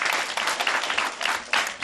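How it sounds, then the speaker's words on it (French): Children clap together in a classroom for group A, a dense, steady burst of applause with a few louder surges, close and filling the short moment alone. "Applaudissez pour le groupe A."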